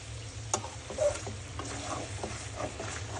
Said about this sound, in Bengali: এটাকে এখন আমি সুন্দর করে ভাজা ভাজা করে নিব।